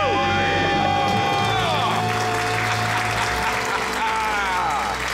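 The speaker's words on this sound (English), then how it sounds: "Let's hear a debt-free scream." A studio audience screams and cheers in a loud debt-free celebration on a call-in talk show, with whoops and yells over a sustained roar of crowd noise.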